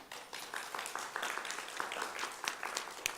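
Applause at a town council meeting welcoming the new public library CEO, a modest scattering of claps from a small room, fairly faint and uneven.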